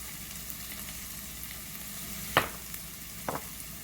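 Codfish goes into a pan of sautéed onions for Jamaican pumpkin takari, producing a soft, faint sizzle with two brief bursts of louder frying and clatter.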